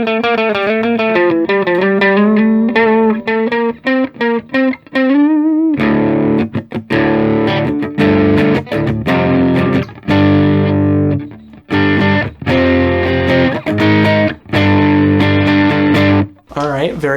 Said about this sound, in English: Let's hear some tones from the normal tube screamer,